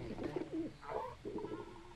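Kulu-Ya-Ku bird monster from the video game Monster Hunter World giving a few cooing, warbling calls in quick succession, clear and fairly close, with no talk over them.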